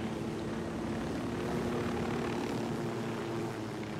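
Steady roaring drone of an aircraft engine during a landing in the Ghost Recon video game, loud and continuous with a constant hum, no voices over it.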